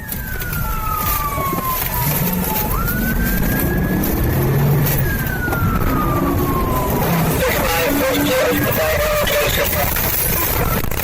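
Car speeding recklessly through a fence into a residential area during a police chase, with a siren wailing and sweeping in pitch across the whole stretch over constant loud engine and road noise.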